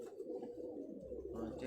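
Domestic pet pigeons cooing close by, a low, rolling throaty murmur that swells and repeats over about two seconds.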